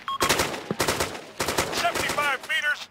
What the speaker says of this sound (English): Definitely taking shots.